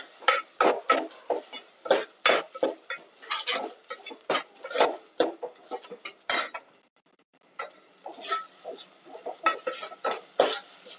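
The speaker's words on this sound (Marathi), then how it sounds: "वाटणाचा मसाला जसा आहे ना, खोबऱ्याचा चांगलं तेल सुटेपर्यंत परतायचं" Coconut masala paste being stirred and fried in oil in a pan for mutton sukha, with a steady run of close scraping and clinking strokes and a brief pause near the middle.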